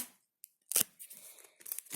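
A small packet is torn open by hand in a quiet room, heard as a sharp ripping burst followed by a rustling tear and a second crisp rip near the end.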